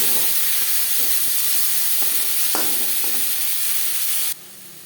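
Chopped onion and tomato fry in a pan for a Bhola Bhetki fish jhal. A steady, close, hissing sizzle carries occasional stirring clicks, then drops sharply in level near the end.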